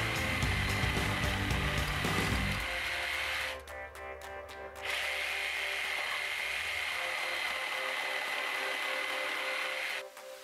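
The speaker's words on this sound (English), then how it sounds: "using a jigsaw, and what I'm doing is I'm cutting lines right into the end line in the center of the wood" A jigsaw buzzes loudly and steadily as it cuts notch lines into the end of a piece of wood, close by, with a short pause before the cutting resumes.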